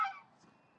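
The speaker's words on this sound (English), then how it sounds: "Noisy birds." A single short goose honk at dusk by a lake that fades quickly, followed by a faint trailing call.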